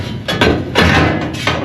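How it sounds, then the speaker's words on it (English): Metal panel on a 1955 Chevrolet Nomad hammered flat for an overlap spot weld: several loud, close hammer blows at an uneven pace, with no talking. "I will hammer this flat so I can do an overlap and spot weld"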